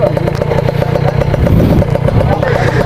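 A motorcycle engine runs steadily and close by, a loud continuous rumble with a rapid pulsing beat, while people talk over it.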